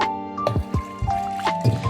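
Water is poured from a cup into a wheat halwa (godhi halwa) mixture in a home kitchen, giving a short run of close, wet splashes and drips over about two seconds.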